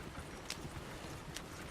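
Horse hooves clip-clopping in the Red Dead Redemption 2 video game on PS4 Pro, a faint steady trot with two brighter hoof strikes standing out.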